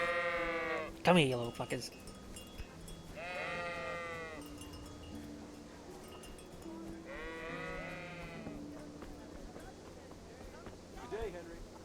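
Sheep in a video game bleat in two drawn-out, wavering bursts at mid-loudness, following a sharp clatter near the start, while someone talks over and between them.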